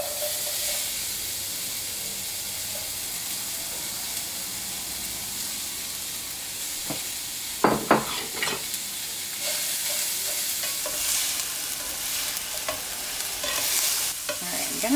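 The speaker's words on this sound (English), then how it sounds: "are you ready for some serious sizzling ASMR?" Steady, loud sizzling of chopped vegetables frying in a pan, with a few stirring scrapes and clatters partway through.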